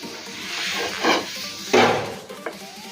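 A tissue paper wipes oil across a hot tawa with scraping, rubbing strokes and a few sharp knocks and clinks of utensils against the pan, close and moderately loud, with no voices.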